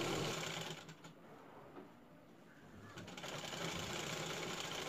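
A sewing machine stitching the folded hem of a petticoat frock skirt: a faint, close mechanical whirring with a rapid rattling needle pulse, pausing briefly midway before running again.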